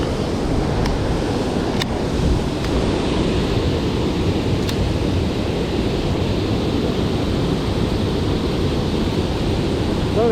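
Rushing water roars steadily and loudly close by, a broad constant wash of sound with a few faint clicks and no voices.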